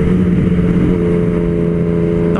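A Yamaha MT-09 motorcycle engine runs and revs, a loud, steady mid-pitched roar with sustained engine tones that lift slightly toward the end.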